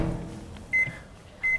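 A microwave oven heating food for one minute, a low steady hum with two sharp, loud electronic beeps standing out over it near the middle and end.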